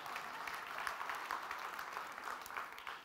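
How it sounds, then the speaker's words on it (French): A church congregation applauds steadily, a dense wash of many hands clapping at moderate distance, continuous throughout without a break. "si vous voulez applaudir, applaudissez"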